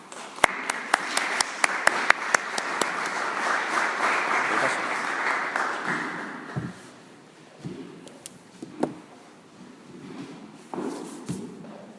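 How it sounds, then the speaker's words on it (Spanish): An audience at a conference in a church setting applauds, a dense patter of many hands for about six seconds, then it fades out into scattered claps, shuffling and footsteps. "le pido un fuerte aplauso antes de que comience"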